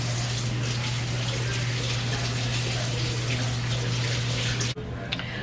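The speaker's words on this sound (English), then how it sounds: "Let me wash my hands." A kitchen tap runs in a steady, loud gush while hands are washed under it, the water cutting off abruptly near the end.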